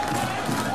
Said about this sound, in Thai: นี่ครับแฟนๆนี่ยืนทั้งสนามเลยครับ ครับ ยืนปรบมือให้กับบัวขาวครับ